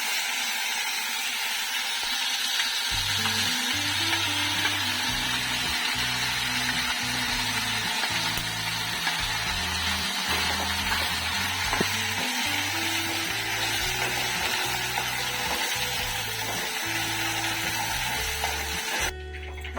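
Mint chutney added to hot oil gives a continuous close sizzle with occasional stirring scrapes, with faint background music running beneath.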